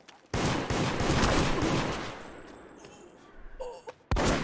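Gunfire in the multiplayer game Deceit: a sudden burst of rapid automatic shots starts loud and close, fades into a decaying rumble, then another sharp blast cuts in near the end.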